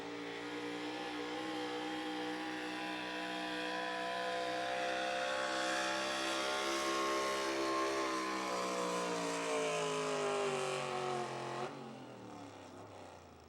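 A big black Ford pro stock 4x4 truck roars at an outlaw truck pull, its engine note climbing steadily in a long, loud, sustained rev before dropping sharply near the end.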